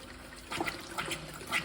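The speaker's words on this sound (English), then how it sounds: "there'll be water and air starting to spit out there as that line gets flushed" Water and air spit and sputter from the relief valve line of a propane water heater after a new pressure relief valve is fitted, a faint, irregular trickle with small bursts of gurgling.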